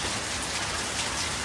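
Steady rain falls on a garden, a dense, even hiss of drops striking leaves and ground without a pause, close and fairly loud, with no voices.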